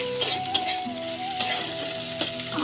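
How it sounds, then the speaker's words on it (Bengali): An egg sizzles steadily in a pan, with a few sharp clinks of a utensil against the pan. "ডিমটা ভাজছি"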